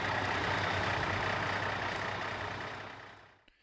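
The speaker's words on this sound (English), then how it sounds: "A truck with a load accelerates more slowly than a truck without a load" A loaded truck's heavy engine drones loud and steady under acceleration, a dense low rumble that holds for about three seconds, then fades away quickly at the end.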